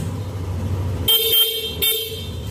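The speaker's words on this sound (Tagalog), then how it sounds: "Busina natin." Horn of a two-month-old 2024 Yamaha Aerox version 2 scooter, idling first, then two short, loud honks in quick succession, close by.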